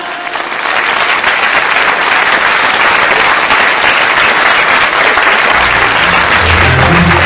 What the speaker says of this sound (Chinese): 我们用最热烈的掌声，有请今晚所有的粤剧名角们